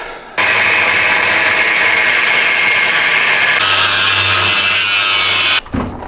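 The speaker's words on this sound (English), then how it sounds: "So I'll just go to grinding those off." An angle grinder cuts off welded toolbox brackets on a truck bed while the dump bed comes off a 7.3 Powerstroke truck. The loud, steady, harsh grinding starts abruptly, runs unbroken for about five seconds, then cuts out near the end.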